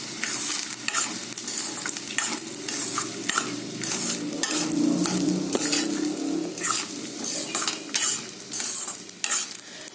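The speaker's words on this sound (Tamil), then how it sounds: "சவரிசி போட்டோன்னு வேகமாக கலரணும்," Sago upma is stirred briskly in a hot pan, with repeated scraping clinks of a utensil against metal over a constant close sizzle.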